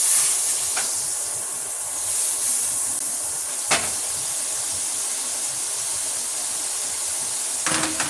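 Shrimp and butter sizzling in a pan: a steady, bright hiss of frying that runs unbroken throughout, with a couple of faint knocks and clinks near the cookware and no speech.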